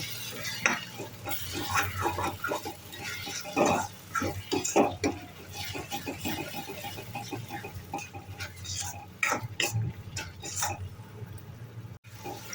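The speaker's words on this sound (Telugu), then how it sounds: "జీడిపప్పు పేస్ట్ వేసిన తర్వాత బాగా వేయించుకోవాలి" Cashew paste frying in a pan for paneer masala, stirred steadily with a spoon, giving a continuous close sizzle broken by repeated scraping strokes across the pan.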